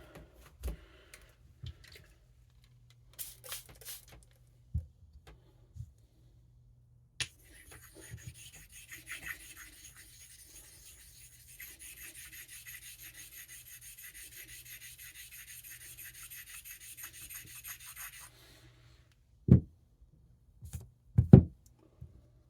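A knife blade strokes across a Coticule whetstone that has a slight gouge, giving a steady soft rasping scrape for several seconds, with a few isolated knocks and taps before and after.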